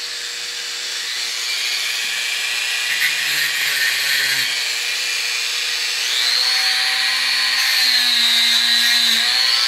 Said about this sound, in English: I'm going to take and grind this down and try to form it in there so that I barely, if at all, touch the field of the stock